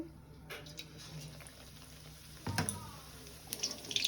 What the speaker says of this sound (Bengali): ফুলটাকে এবার বেসনের তেলের মধ্যে দিয়ে দেবো